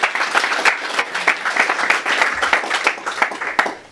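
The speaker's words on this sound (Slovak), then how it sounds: "veľký potlesk pre ňu" An audience claps steadily in a room after a short elevator-pitch presentation in a presentation-skills workshop, a dense, fairly loud round of applause from a modest group, fading slightly at the end.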